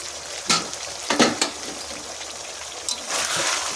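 Chicken frying in a pan for coriander chicken sizzles under a lid-released steam hiss, with a few sharp scraping bursts as a spoon stirs it, close and without speech.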